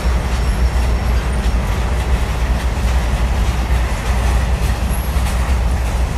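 A Union Pacific freight train rolls slowly past at close range, a loud, steady rumble of heavy wagons with faint wheel clatter and occasional high squeals, and no talk.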